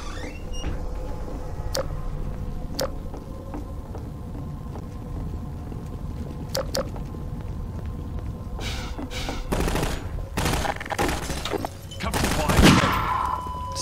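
Gunfire in Half-Life 2 aimed at the player: a few sharp isolated shots over steady background hum, then a denser burst of rapid fire near the end, moderately loud, with some voices.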